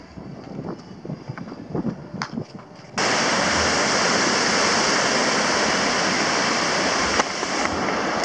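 Fast-flowing river water rushes beneath a bridge on a cycling route in Colombia between Cajamarca and Salento, starting as a quieter background wash with faint sounds, then becoming a loud, steady, broadband roar close by from about three seconds on.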